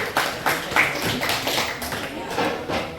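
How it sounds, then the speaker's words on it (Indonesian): Applause in a school classroom, uneven bursts of clapping from a group of students, with some speech-like sound mixed in. "tepuk tangan dulu buat Tati"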